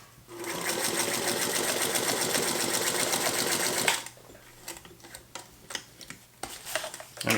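A Singer Featherweight sewing machine stitching a folded hem in heavy ballistic nylon, a loud rapid mechanical whirr for about four seconds, then it stops, leaving scattered clicks and handling noises.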